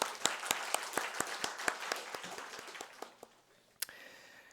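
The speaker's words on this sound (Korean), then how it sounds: "감사의 박수 드리고 싶습니다" A congregation at a Sunday church service claps in thanks, a dense round of applause that thins out and fades over a few seconds, with a few last scattered claps.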